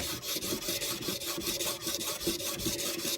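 A wooden pen blank spinning on a lathe is sanded by hand, giving a quiet, steady rubbing hiss with a faint rhythmic swish, alone with no voices.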